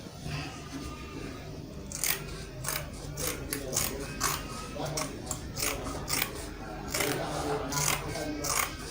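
Scissors snip through Ankara fabric being cut for an off-shoulder dress, a run of crisp, close cuts in an irregular rhythm of about a dozen strokes over a low room hum.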